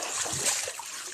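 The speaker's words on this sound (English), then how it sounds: "So can you hear the water?" Running water splashes and trickles steadily, a constant close wash of hiss and spatter with a faint voice barely present underneath.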